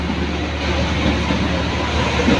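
A local night train between Blitar and Kertosono runs on its rails, heard from inside the carriage as a continuous loud rumbling roar with a faint rhythmic clatter underneath.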